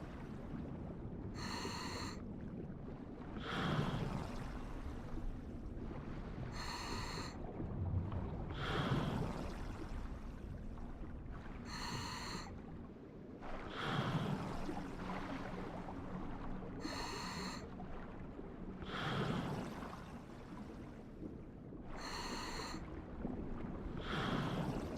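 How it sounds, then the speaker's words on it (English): A character in the video game Hoarding Simulator breathes heavily in a slow, regular in-and-out cycle that repeats about every five seconds, loud and close, with a bright hissing edge on each breath. "I don't like the sound of the breathing too much."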